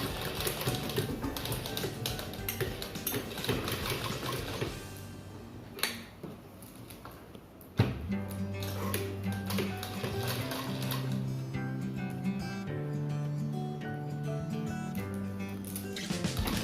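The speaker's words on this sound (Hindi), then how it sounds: "इस तरह से हमें इसे सिलना है।" A sewing machine stitches velcro onto a homemade cloth mask, running in steady fast ticking bursts with a brief pause midway, fairly faint and close, with no talking.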